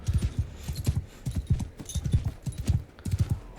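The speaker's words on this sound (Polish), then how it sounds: "Tylko koniem go stratowałem trochę." Horse hooves in Mount & Blade II: Bannerlord trample an enemy in a steady, loud galloping clip-clop, with quick repeated thuds running through the whole stretch and no talk.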